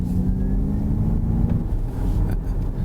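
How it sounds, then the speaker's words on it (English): A Ford Mustang Mach-E electric car plays an artificial engine sound while driving, a steady low exhaust-like rumble with a faint hum that runs throughout without a break. "So this has got an artificial sound that actually, it's weird, it sounds like it's coming from behind you, so it sounds like an exhaust"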